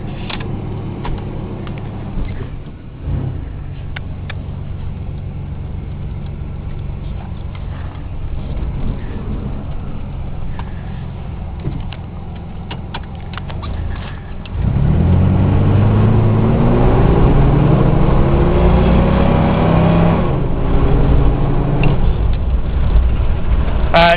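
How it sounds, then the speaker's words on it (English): A straight-piped 1988 Chevrolet S-10 Blazer with a 4.3L engine, heard from inside the cab while driving: a loud, steady exhaust drone that swells into a harder, rising acceleration roar partway through and holds strong to the end. "Nice little in-cab shot for you to hear the motor with the straight pipe."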